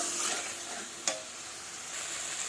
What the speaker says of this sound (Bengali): এবার মশলাটা দিয়ে দিয়েছি, এবার ভালোভাবে কষিয়ে নেব।